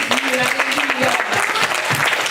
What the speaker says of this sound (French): Clap for Jesus. Acclamez Jésus.